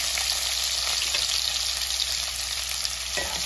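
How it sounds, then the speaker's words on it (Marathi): Garlic and tomato sautéing in a pan for a dry cauliflower bhaji, a steady close hiss of frying with faint stirring scrapes and no voices. "लसूण थोडासा परतून घ्यायचा आहे आपण"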